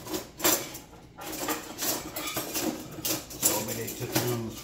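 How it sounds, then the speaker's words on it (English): A spatula pulled from a kitchen drawer while making chicken quesadillas: scattered clattering of metal utensils and a drawer sliding, with several distinct knocks and rattles close by, and a voice talking over parts of it. "And so I better get out a spatula as well."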